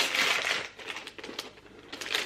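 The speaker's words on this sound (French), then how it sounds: "Désolée pour le bruit du papier" Paper rustles and crumples close up as an advent calendar box is unwrapped, a few crisp crinkling bursts with brief pauses between them.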